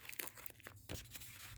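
Tape being peeled back from a Discogs shipping package, short close crinkling and tearing strips at low volume with brief pauses between pulls.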